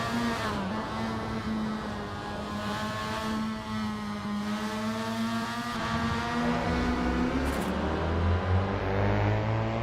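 Formula Mazda race car engine at the Zandvoort circuit in the Assetto Corsa racing game, a loud sustained buzzing whine with rich harmonics that rises and shifts pitch through gear changes, then drops low near the end.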